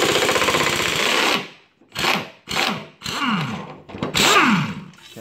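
A power drill running in reverse on a lawn mower blade bolt, loud close whirring bursts that start and stop repeatedly with rising and falling pitch as the trigger is squeezed and released.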